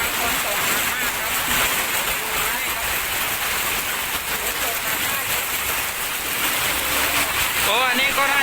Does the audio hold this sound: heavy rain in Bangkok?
yes